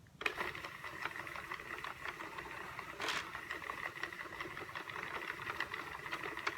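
Sentro knitting machine working yarn on a reversible hat, a steady mechanical whirring and clicking that runs continuously at close range with no talk.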